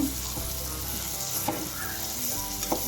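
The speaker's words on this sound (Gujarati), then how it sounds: "સારું એવું તેલ છૂટું પડીને ઉપર આવી જાય ત્યાં સુધી સાતરવાનું છે" Undhiyu vegetables sautéing in plenty of oil in a pan, a steady dense sizzle with occasional stirring scrapes throughout, close and continuous.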